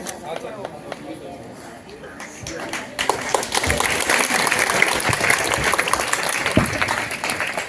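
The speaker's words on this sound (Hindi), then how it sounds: "हम लोग जोरदार ताली बजाकर उनका भी स्वागत करेंगे।" A school parent-teacher meeting audience breaks into loud, sustained applause to welcome a student's father, starting after quieter room sound with an announcer's voice and lasting several seconds.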